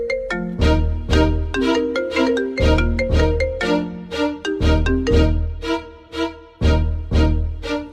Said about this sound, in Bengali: একটা ফোন আসছে